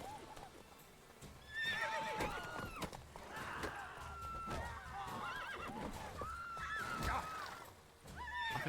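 Several horses neigh and whinny repeatedly in the video game The Witcher 3: Wild Hunt, shrill calls rising over background clatter, some close and loud, others further off.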